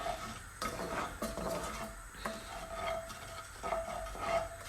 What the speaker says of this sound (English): it's always okay to stir it up as well